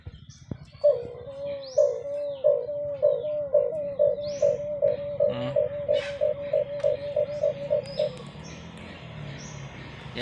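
Pet doves or pigeons coo close by in a long, evenly paced run of soft, hollow calls, roughly two per second, over a quiet background before the series stops.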